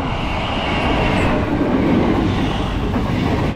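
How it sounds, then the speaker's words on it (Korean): A train on the railway line to Barcelona, Spain, passes close by with a loud, steady rumble and rushing roar that holds throughout, with no voices. "이게 저희가 어제 바르셀로나로 간 기차거든요"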